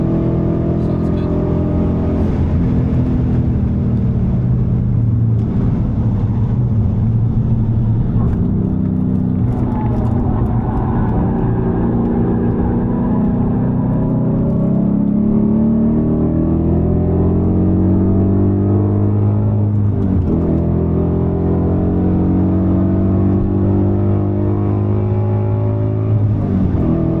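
A Ford factory racecar lapping a circuit, its engine droning loudly and steadily with rising and falling revs through gear changes, heard from on board with people talking over it.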